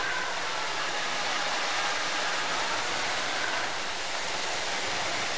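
Continuous broadband engine drone of a forklift revving to help its hydraulics lift a heavy load, steady and fairly close throughout with no speech.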